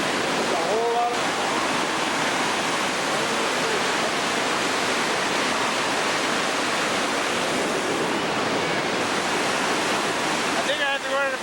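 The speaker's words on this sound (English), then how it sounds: "The thunder on the water is unbelievable. It's so loud, it's deafening." Water thunders with a constant, deafening broadband roar like a big waterfall, filling everything evenly, with brief voices at the start and end.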